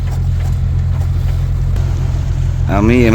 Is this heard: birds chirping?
no